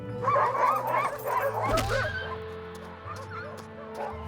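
Buck, a sled dog, whimpers and yips softly after being beaten, the pained cries close and broken up over a low musical backdrop, fading toward the end.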